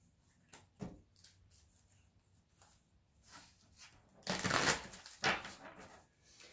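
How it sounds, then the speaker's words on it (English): Tarot cards being shuffled in several quick riffling bursts, the loudest near the end, with soft handling noises in between. "2 more shuffles"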